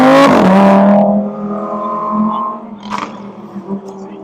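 A BMW E30 passes at a San Francisco sports car meet, its engine note sweeping down in pitch as it goes by close and loud, then fading under crowd noise.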